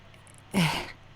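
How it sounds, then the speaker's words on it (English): A single short cough, fairly close and moderately loud, against a quiet background. "Excuse me while I pause and have a bit of a cough."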